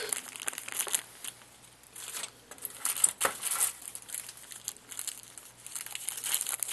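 A plastic baggie holding a shotgun choke crinkles and rustles close by as it is handled, with uneven bursts of crackling and one sharper crunch midway, and no talk.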